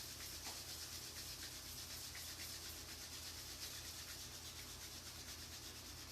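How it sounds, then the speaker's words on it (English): Palms rubbed together hard during a soft yoga session, making a steady, close, dry friction hiss that runs unbroken and fairly quiet throughout, with no talking. "rubbing them together really strong, getting some heat going in between the palms"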